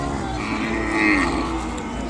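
A calf bellows briefly at a busy Ongole cattle market in Kodad, one short low moo rising out of steady crowd murmur and outdoor background noise.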